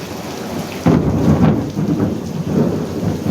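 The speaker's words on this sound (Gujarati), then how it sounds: "ફૂલ ગાજે છે વરસાદ." A loud thunderclap breaks out and rolls into a rumbling roar over heavy monsoon rain on a farm, the downpour hissing steadily beneath it.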